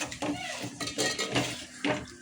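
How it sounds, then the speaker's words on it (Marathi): Prawns frying in a pan with rice for kolambi bhaat, a spatula scraping and clinking against the pan in quick repeated strokes over a soft sizzle, close by. "ह्याला सुद्धा मस्त 2 मिनटं भाजून घेऊया."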